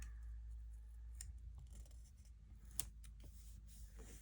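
Scissors cutting through paper stickers in a planner, a few quiet snips and rustles close by against a faint steady hum.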